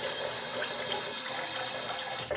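Water runs steadily from a tap through a Gillette Nacet-bladed safety razor to rinse out shaving suds, a constant close hiss and splash that ends with a short gurgle.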